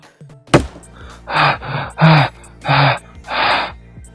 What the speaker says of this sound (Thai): ใครมันนั่งหอบอยู่ตรงนั้นกันวะ